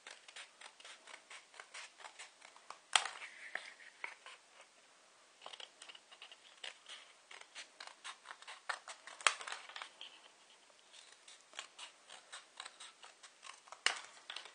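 A cardboard paper roll is cut into rings for napkin holders: a quiet run of crisp, close snips and crunches with short pauses between cuts, and a few sharper clicks standing out.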